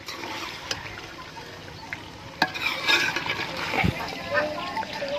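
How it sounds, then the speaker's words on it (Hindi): Chicken curry sizzles and is stirred in a pan, a bright frying hiss with scraping and clatter, while a person speaks over it. "ये मेहमान वास्ते मुर्गी की भाजी पकाई"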